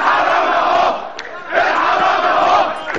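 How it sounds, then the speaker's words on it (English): Thousands of protesters chanting in an Egyptian street protest, two loud rhythmic surges of massed voices separated by a brief dip, with the crowd sounding close and dense. "Tanks rolled through the streets as thousands chanted for President Hosni Mubarak"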